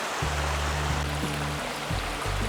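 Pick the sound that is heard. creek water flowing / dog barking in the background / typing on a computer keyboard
creek water flowing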